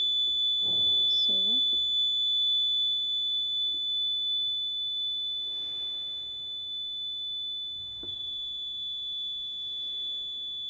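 A null detector on a bridge circuit gives off a steady, high-pitched electronic tone while being balanced with a potentiometer. The tone holds nearly constant across the whole stretch, and someone talks quietly over it.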